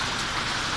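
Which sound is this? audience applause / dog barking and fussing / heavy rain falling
heavy rain falling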